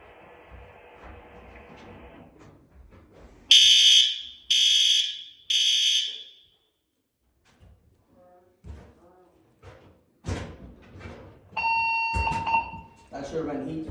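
A new apartment building fire alarm set off by a heat detector, with three loud, piercing electronic tone bursts in a row, then clanks and door-like thumps and a further beeping tone, all close by.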